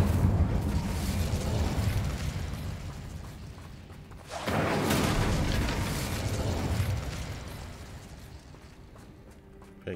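Incendio fire spell from Hogwarts Legacy, a loud roaring blast with a whooshing burst of flame that swells midway and rumbles on before fading into lingering crackle.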